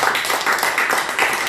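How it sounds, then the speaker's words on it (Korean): A church congregation claps together in a short burst of encouraging applause, steady rhythmic hand claps close and fairly loud. "그래서 우리 서로를 격려하는 마음으로 격려의 박수를 같이 보내겠습니다."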